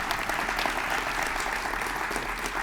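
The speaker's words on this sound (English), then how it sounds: "It's a lot of applause, but it's important." Loud, sustained crowd applause at a college inauguration ceremony, a thick continuous wash of clapping from a large audience with a low steady hum beneath it.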